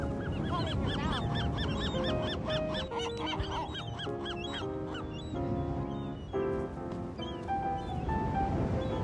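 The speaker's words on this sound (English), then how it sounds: "I love seagulls." Seagulls call at a beach, a close chorus of overlapping honking, squawking cries that repeat in quick bursts over a constant wash of background noise.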